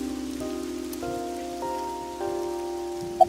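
Steady rain falling in the game AI: The Somnium Files, a constant soft hiss heard under sustained musical tones that step upward through the scene.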